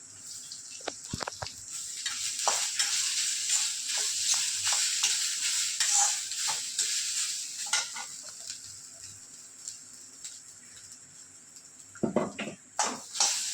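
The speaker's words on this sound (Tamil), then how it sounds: "இப்போ எடுத்து வச்ச தேங்காயும் போட்டு எல்லாத்தையும் நல்ல செவக்க வறுக்கணும்." Grated coconut and spices roasting in a pan for traditional fish curry, with a steady soft sizzle and repeated scraping stirs of a spoon against the pan, sharper clatters near the end.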